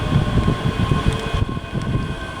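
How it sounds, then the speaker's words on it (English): A ScotRail train runs between Glasgow Queen Street and Edinburgh at Haymarket, giving a steady mechanical hum and low rumble with a faint tonal whine, fairly close and continuous, with no talking. "Behind me as well is the other 1629 ScotRail service to Edinburgh from Glasgow Queen Street"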